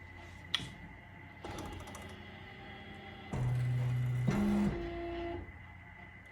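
Embroidery machine shifting its cap hoop frame, heard as quiet clicks and stepper-motor whines with sustained buzzing tones in a quiet room, the motor noise rising and falling in short stages.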